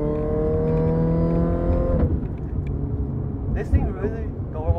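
A 2006 Mini Cooper S R53 with a six-speed manual pulls hard up a ramp, its engine whine climbing steadily before a shift, then rumbling on with occasional pops and backfire as a person talks inside the cabin.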